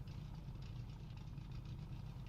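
Race car engines in a racing game at the Zandvoort circuit during qualifying, heard as a steady low droning engine rumble at constant pitch, continuous and fairly loud, with no voices.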